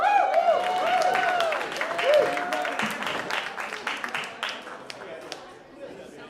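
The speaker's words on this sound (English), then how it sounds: "Round of applause for our volunteer." A mentalist's stage show audience applauds a volunteer coming up, scattered clapping heard alongside a sustained tonal music cue and some voices, the claps growing sparser and fading over several seconds.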